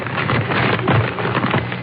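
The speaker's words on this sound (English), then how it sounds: "Then, a rustling of paper." Paper rustling sound effect from a 1947 radio broadcast, a continuous crinkly crackle lasting about two seconds at steady, moderate loudness with no voices over it.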